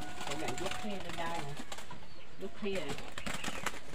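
A spotted dove calls with soft, repeated cooing notes close by in a village bird-keeping setting, alongside other bird sounds and background voices.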